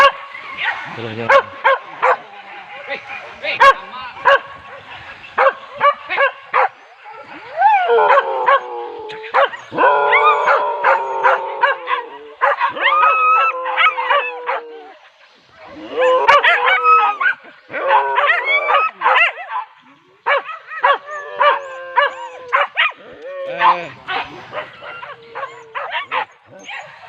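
Hunting dogs bark and yelp in repeated excited bursts during a wild boar hunt in forest, loud and close, with brief pauses between volleys and occasional howl-like cries.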